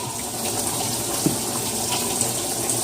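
Clean water running steadily from a kitchen tap for cooking rice, a continuous close gushing splash filling a pot or sink without a break.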